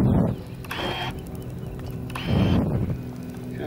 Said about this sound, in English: And this is the air brake.